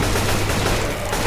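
Rapid gunfire from a Left 4 Dead 2 zombie survival shooter, a dense, continuous crackle of shots that stays loud and steady throughout with no pauses.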